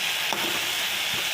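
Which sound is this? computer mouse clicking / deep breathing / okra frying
okra frying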